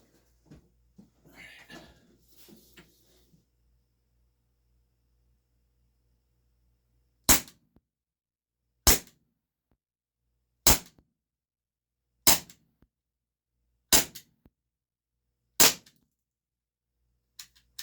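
A Walther PDP Compact T4E CO2 pistol fires six sharp, evenly spaced shots about two seconds apart, each a loud, close crack with a brief click after, preceded by a few seconds of faint handling noise.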